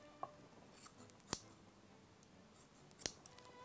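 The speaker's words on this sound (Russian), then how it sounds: "уголочки вот эти обрезайте ножницами" Scissors snip the corners off a hasselback potato, two crisp close-up cuts about two seconds apart with a faint softer click before them, in an otherwise quiet kitchen.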